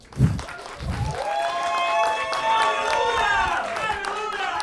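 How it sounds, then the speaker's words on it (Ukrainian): Sustained audience applause with scattered cheers, a broad steady wash of clapping lasting several seconds. "Давайте поплескаємо в долоні."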